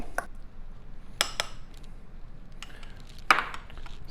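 Tuna being mixed with crushed red pepper in a bowl gives a few sharp clinks and scrapes of a utensil against the dish, spaced apart over a quiet background, close and fairly faint.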